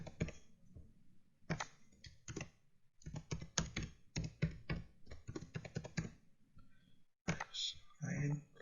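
A password typed on a computer keyboard: bursts of crisp, close key clicks in quick runs separated by short pauses, with a voice speaking between the bursts.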